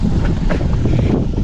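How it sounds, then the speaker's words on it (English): Wind blows hard across a sailboat during solo sailing, a steady, loud rushing buffet with gusty swells that sounds close, with no talking. "Hopefully this wind stays tomorrow."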